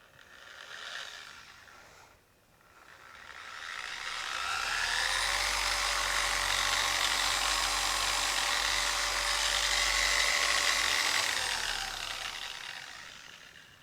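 A MaxShine M21 Pro long throw polisher soft-starts, ramps up to a steady, fairly quiet motor whine with a low hum, then begins to wind down near the end.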